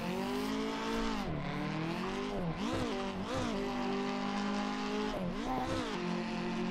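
Lower-powered street car drifting in a driving video game, engine revs rising and falling sharply as the clutch is kicked to keep the slide going, with tire squeal woven through a loud continuous drone.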